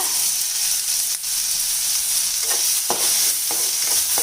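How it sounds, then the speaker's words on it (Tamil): An onion, garlic, tomato and tamarind mixture sautés in a pan for a spicy lentil chutney, giving a loud, continuous sizzle close up, broken by occasional scraping stirs and no voices. "இப்போ இந்த கலவை நல்லா வதங்கி வரட்டுங்க"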